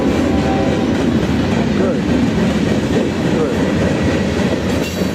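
CSX double-stack freight train rolling past close by, a loud, steady rumble of wheels and cars with rhythmic clatter throughout, while a voice speaks over it.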